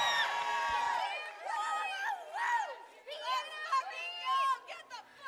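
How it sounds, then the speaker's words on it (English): A lively crowd at the Firefly Music Festival in 2021 during a DJ set, with shouting, whooping and excited voices layered over each other and keeping up through the whole stretch. The crowd is loud and close. "This has got to be the most lively crowd for a 145 set"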